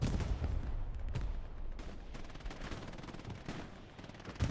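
Machine gun fire in the World War II shooter Hell Let Loose, steady rattling bursts over dense battlefield rumble, with sharper cracks standing out at irregular intervals.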